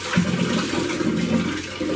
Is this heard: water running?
yes